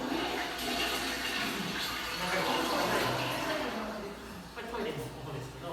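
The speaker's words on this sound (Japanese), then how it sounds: "これトイレの音ですけど" A toilet flushes nearby in a rush of water that swells and then tapers off over a few seconds, with faint voices in the background.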